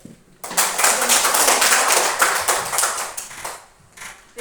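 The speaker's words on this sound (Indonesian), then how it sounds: "Kita beri tepuk tangan buat Ido" Schoolchildren in a classroom break into quick, ragged clapping for a classmate. The burst starts suddenly, stays loud and close for about three seconds, then thins out into a few scattered claps.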